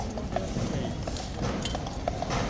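Hooves of a trooper's horse clop on hard ground at Horse Guards in London, a muffled irregular clatter beneath a steady crowd murmur.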